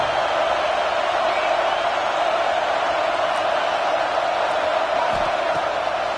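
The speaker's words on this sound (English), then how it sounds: "this home crowd is fired up and ready to make a difference today" Home crowd at an Iowa versus Alabama football game, a steady wall of broad cheering and roar held at a constant level throughout, with no single voice standing out.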